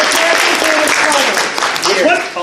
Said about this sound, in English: Guys, give a round of applause to Status.